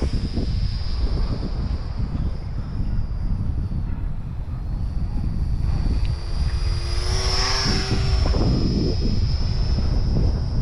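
WLToys XK A250 BF-109 cartoon RC plane flying outdoors on a windy day, a thin high electric motor whine rising and falling over steady rumbling wind noise on the microphone.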